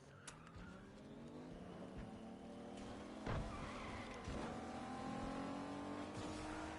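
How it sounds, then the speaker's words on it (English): Cars driving past in a video game, engines revving and droning with tire squeals and skids, several vehicles whooshing by close in a busy, continuous stream. "Yeah, there's cars galore. There's cars galore up there right now."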